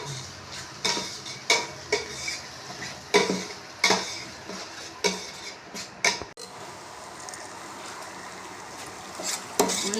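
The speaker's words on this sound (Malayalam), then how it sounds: "ഉള്ളി വാടിക്കൊണ്ടിരിക്കുന്നത്." Onions for chicken curry sauté in a pan: a spoon strikes and scrapes the metal in a run of sharp, regular stirring strokes over a low sizzle, then the clatter thins to a quieter, steady frying hiss.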